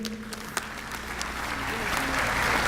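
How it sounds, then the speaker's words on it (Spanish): Applause from a lecture audience greeting Dr. Pedro Orihuela, a reproductive biology specialist, at a scientific conference, with steady clapping that swells toward the end and faint voices underneath. "lo recibimos con un fuerte aplauso"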